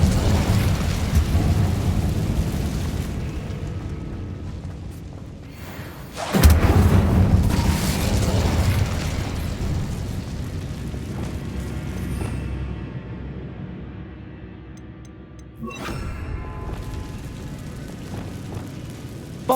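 A fiery spell burst in Hogwarts Legacy erupts with a sudden loud whoosh and rumble midway, over continuous game ambience and music, followed later by a second sharp burst.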